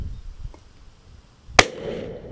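One rifle shot fired at a distant target on a shooting course, a sharp close blast followed by a short rumbling echo, set against quiet outdoor wind.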